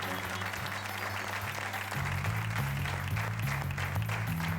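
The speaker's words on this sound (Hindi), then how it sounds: "नंबर 6 के लिए जोरदार तालियां" Loud audience clapping on a game show when lucky number 6 is called, dense and sustained under a swelling musical sting and voices.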